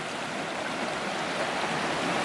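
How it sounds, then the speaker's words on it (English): Steady rushing of a creek flowing close by at a hiking trail crossing in Pisgah National Forest, a dense continuous wash of water with no voices. "Got a little creek crossing."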